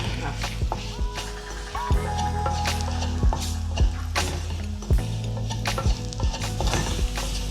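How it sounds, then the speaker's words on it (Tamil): Spices sauté in sesame oil in a pan while tamarind is dissolved into the mix. A steady close sizzle runs throughout, broken by repeated stirring scrapes and soft squishing clanks of the spoon. "அதையும் நல்லா இந்த எண்ணெயோடு வதக்கிட்டு புளியை கரைச்சி விடலாம்"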